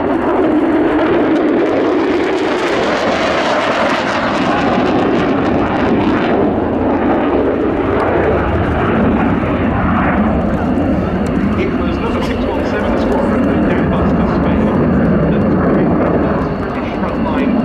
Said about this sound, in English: Navy operates the F-35B variant, which has a short takeoff and landing capability